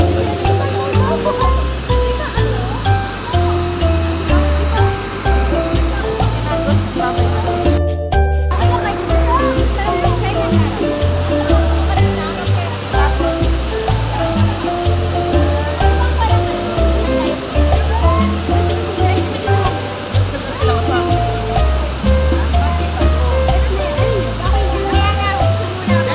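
Tanawan Falls in Dingalan, Aurora pours in a constant loud, dense rush of water, close and unbroken apart from one brief dropout, with faint voices now and then beneath the roar.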